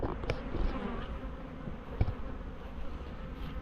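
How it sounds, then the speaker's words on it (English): Honeybees buzzing around a double brood hive outdoors, a steady close drone of many bees with a few sharp knocks and no talk. "some of them bees will come out of there"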